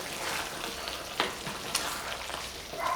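Chicken and potatoes coated in sauce sizzle in a hot pan while being stirred, a soft continuous frying hiss broken by a few sharp scraping clicks of the utensil, with no talking.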